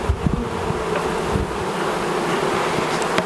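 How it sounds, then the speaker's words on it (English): A swarm of small feral honey bees, extracted from a large log, buzzing in a dense continuous drone close to the listener with no voices. "You'll notice these bees are small bees. They are definitely the feral bee"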